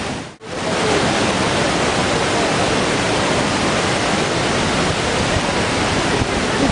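Bridalveil Fall in Yosemite, California roars as a dense, loud, unbroken rush of falling water and spray, heard up close and steady after a brief dip at the start.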